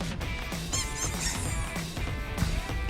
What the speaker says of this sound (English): She can throw a squeaky toy. She can go squeaking.